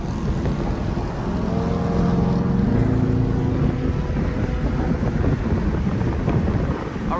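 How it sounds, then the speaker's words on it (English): Hoodless Mopar car cruising on a highway, a loud continuous engine drone with a gear change and heavy wind rush, no talking. "Highway POV drive, no hood."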